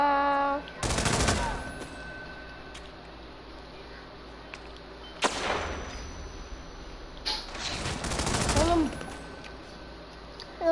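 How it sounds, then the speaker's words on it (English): A flashbang grenade goes off in the video game Hitman 2, heard as a few sharp loud bursts with bright ringing tails, spaced several seconds apart over steady game ambience. "It was a flashbang, bro."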